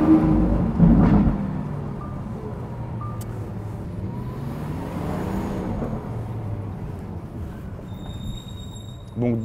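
A Lamborghini engine runs steadily below 2500 rpm with its exhaust valve shut, giving a low, muted drone that stays fairly even. Faint talk is mixed in beneath it.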